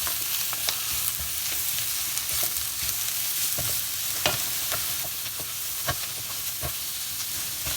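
Crushed, roughly chopped garlic sizzles gently in a pan, a steady close frying hiss broken by occasional crackles and pops, with no talking.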